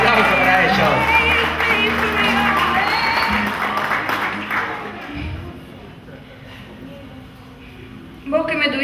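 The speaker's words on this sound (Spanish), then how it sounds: "Fuerte el aplauso para ellos." Applause for the family at a quinceañera candle ceremony, loud sustained clapping from a crowd that gradually fades to a quieter room murmur, followed by a sudden sound at the end.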